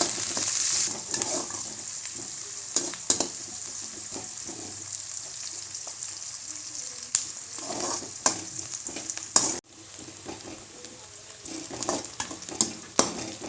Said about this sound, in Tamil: கடுகு போட்டு வெங்காயம் பெரிய வெங்காயம் பச்சை மிளகாய் மல்லித்தலை கருவேப்பிலை போட்டிருக்கு இதை நல்லா வதக்கலாம்